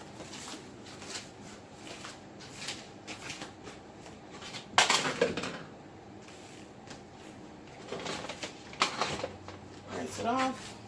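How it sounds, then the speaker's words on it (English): A spatula being picked out from among kitchen utensils: a few clattering metallic clinks and knocks near the middle and near the end, against quiet room noise. "I'm going to grab my spatula."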